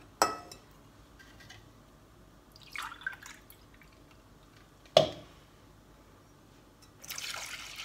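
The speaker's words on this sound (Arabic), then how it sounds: "وهنا غادي نضيف الحليب." Milk being poured from a glass into a homemade ice cream mixture, heard as brief splashing pours and drips separated by quiet gaps, a sharp splash midway and a longer trickling pour at the end, faint and close.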